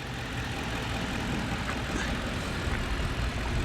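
A 2009 Ford F150 XLT's 4.6 liter V8 engine runs steadily, a low, continuous rumbling hum close by with no one speaking.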